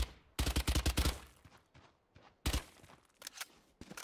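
Bursts of rapid gunfire from the Valorant video game, a fast run of sharp shots followed by shorter scattered volleys and single cracks, fairly close and loud.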